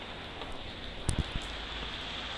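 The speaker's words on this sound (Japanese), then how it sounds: "あー、雨やまねえな。" Steady rain falling outdoors, a continuous soft hiss with a few brief nearby drips or taps in the middle, no one speaking.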